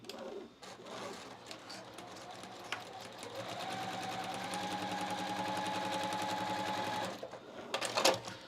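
Close, steady whirring and rapid needle clatter from a sewing machine stitching quilt block pieces, one continuous run with a brief pause and rustle at the end; no voices.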